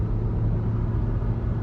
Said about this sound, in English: I don't know if you can hear the engine rev